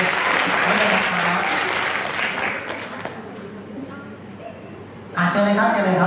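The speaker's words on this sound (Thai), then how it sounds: "ขอเสียงปรบมือหน่อย" A live audience at a Thai government science department event claps loudly and steadily throughout, with a brief dip before the applause swells again near the end; a voice talks over the clapping.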